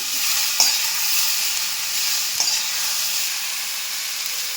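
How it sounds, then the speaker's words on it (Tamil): Steady sizzling of small onions and tomato sautéing in a hot pan, with a couple of brief clinks from stirring, close and continuous. "அடுத்து சின்ன வெங்காயம் சேர்த்திக்கலாம். நல்லா இது ஒரு 2 நிமிஷம் வதங்கட்டும்."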